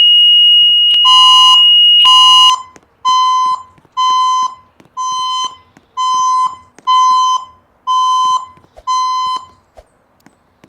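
Building fire alarm under test, a loud continuous electronic tone followed by a series of evenly spaced repeating beeps, about one per second, in a quiet space.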